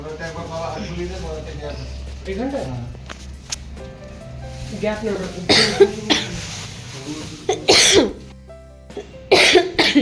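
A person coughing repeatedly, several loud close coughs bunched in the latter half, following a stretch where a voice talks and moves about.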